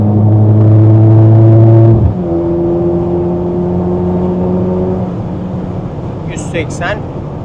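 Engine drone from a Mercedes-Benz SL43 AMG speeding on an unrestricted autobahn, heard loud from inside the car. The steady roar briefly dips as if shifting gear, then continues with wind and road noise.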